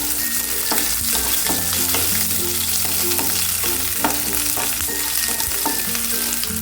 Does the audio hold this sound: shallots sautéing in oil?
yes